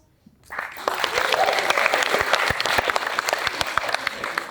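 A comedy show audience breaks into applause after a brief pause, steady clapping from many hands continuing loudly to the end.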